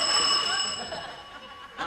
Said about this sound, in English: be the front doorbell ringing